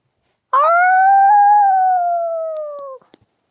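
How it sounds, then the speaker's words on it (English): A single long wolf howl rises from a sharp onset, holds a steady tone with slight pitch bends for about two and a half seconds, then slowly drops and fades. It is loud and close, with nothing else around it. "As our father gave the howl, which basically meant to go hunt"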